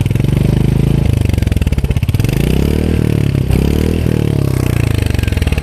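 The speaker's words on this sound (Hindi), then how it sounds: "तो ये है कुछ एग्जॉस्ट नोट का साउंड" A loud, steady single-cylinder exhaust note from a Royal Enfield Hunter 350 motorcycle thumps in a deep, even beat, rising and falling slightly as the throttle is blipped, with no voices over it.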